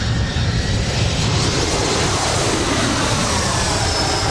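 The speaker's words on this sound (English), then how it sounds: "That was the Embraer that did the go around earlier with SkyWest 3735 coming in from San Jose, California" A SkyWest Embraer jet airliner at LAX roars past, a loud, continuous broadband jet rumble that holds steady throughout without pause.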